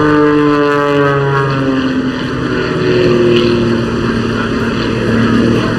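A Jet Pitts aerobatic plane's propeller engine drones loudly at an airshow, with pitch sliding as the aircraft maneuvers, sustained and fairly close throughout.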